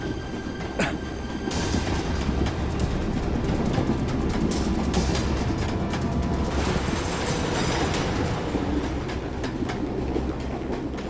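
A moving train rolls along loudly and steadily, its wheels and carriages keeping up a continuous rumble with faint clatter and a brief squeal, close and unbroken, with no voices.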